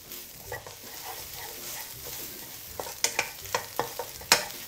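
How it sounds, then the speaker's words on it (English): Egg and ginger rice being stir fried in a wok, with a soft sizzle under a series of sharp metallic scrapes and clacks from the spatula that quicken toward the end; close and fairly quiet, with no speech. "Once the egg has set, we will stir fry this now."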